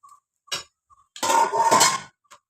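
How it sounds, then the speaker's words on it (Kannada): Lid lifted off a cooking pan while dosa cooks: a few light metallic clinks, then a second-long clattering, hissing burst as the lid comes away, and a final small clink, close up with no talk. "ಇವಾಗ ಫೈವ್ ಮಿನಿಟ್ಸ್ ಆಗಿದೆ ಲಿಡ್ ಓಪನ್ ಮಾಡಿ ನೋಡೋಣ"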